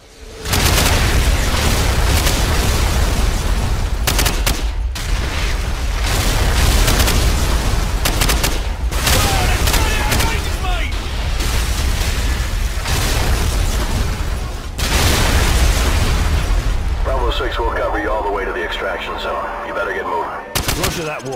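Danger-close artillery fire mission in Call of Duty 4: Modern Warfare on PC, a loud, dense barrage of booming explosions and rattling gunfire that continues for about twenty seconds, with brief pauses and a harsher crackling burst near the end.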